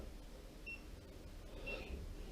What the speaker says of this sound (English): I'm really sorry about the beeping.